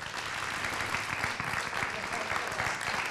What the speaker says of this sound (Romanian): Hai să-l aplaudăm!